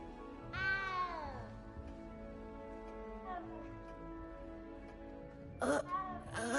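Frightened little cat meowing in the video game Hogwarts Legacy, a few drawn-out plaintive mews spaced across the clip, with a brief sharper cry near the end over steady game ambience.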